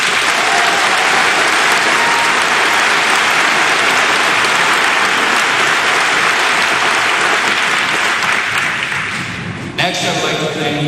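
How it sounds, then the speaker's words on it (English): Dense, sustained audience applause at a high school graduation ceremony, loud and steady from a large crowd, tapering briefly near the end. "Please join me in giving them a round of applause."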